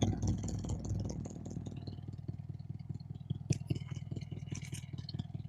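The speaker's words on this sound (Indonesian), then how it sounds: "bunyinya seperti ini knalpotnya." A worn exhaust on a 1989 Toyota Kijang idles with a steady, rough low rumble and rattling pulses, close by and continuous, with a sharp clank partway through.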